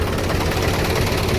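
A tractor engine runs close by with a loud, steady low chugging rumble and dense mechanical noise, no voices over it.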